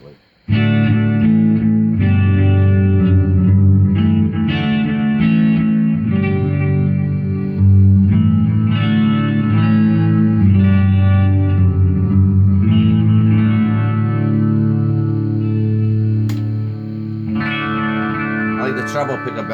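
Electric guitar with Seymour Duncan pickups played on the rhythm pickup, clean tone with delay, steady strummed chords and ringing notes with echo tails, loud and continuous throughout.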